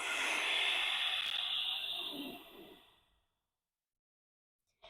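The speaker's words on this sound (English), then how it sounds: "Exhale all the air out of the body." A deep, long exhale during an easy morning stretching routine, a breathy rush that fades out over about three seconds, followed by near silence.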